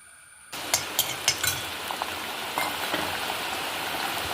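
Mustard seeds and garlic tempering in hot coconut oil in a pan, a steady close sizzle with a few sharp pops and crackles near the start, no talking.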